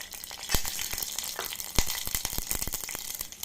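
Oil crackles and sizzles steadily close by as pepper, garlic and crushed cumin fry for tempering, with sharp little pops breaking through the frying.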